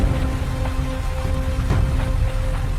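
Heavy rain pours on a dark night, a dense, loud and unbroken hiss with scattered sharper drops striking a surface throughout.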